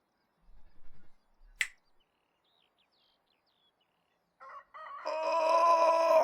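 A rooster crows in the medieval life-sim game Medieval Dynasty, one long rising call near the end following a couple of soft thumps and a brief sharp click, fairly loud against otherwise near silence.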